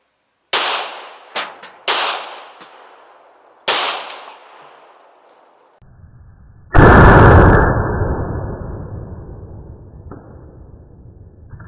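Gunshots fired at a shaving cream can target at an outdoor range, three sharp cracks with fading echoes, followed by a loud burst and long hissing rush as the can is hit and sprays, close and loud.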